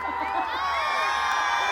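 A festival crowd cheers and applauds before the stage at the Ramanagara Sri Chamundeshwari Karaga Mahotsava, a steady, fairly loud wash of clapping and whoops with shrill tones riding on top for the whole short stretch.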